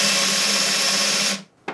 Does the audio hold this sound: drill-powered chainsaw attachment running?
yes